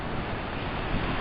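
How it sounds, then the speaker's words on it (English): Ocean surf rolls in along the coast on a hike to Moki'o, a short, steady broadband wash of breaking waves mixed with wind buffeting the microphone, alone with no voices. "Look at the surf."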